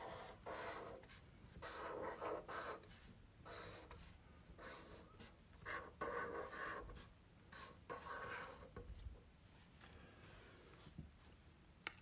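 Pencil scratching across paper in short bursts of strokes, close and fairly quiet, with brief pauses between words; no speech.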